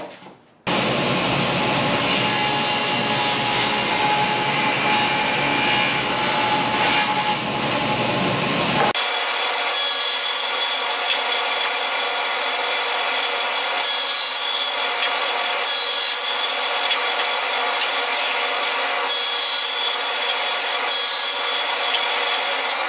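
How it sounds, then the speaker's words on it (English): A table saw with a crosscut sled cuts through a sheet of plywood, a steady loud whining buzz running without a break for over twenty seconds, its tone shifting partway through as the blade clears the cut. "with my crosscut sled on my table saw"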